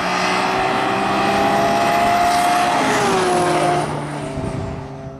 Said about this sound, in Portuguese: Ó, ó o barulho da BM.